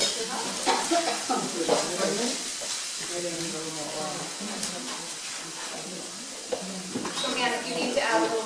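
Leaves and Swiss chard stir-fry in hot oil in a pan, a steady sizzle with scraping stirs, heard under a person talking throughout.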